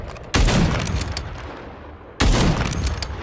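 Two heavy bursts of Call of Duty MW3 gunfire, one near the start and another about two seconds later, each a loud booming volley that rings out and fades under sustained background game noise.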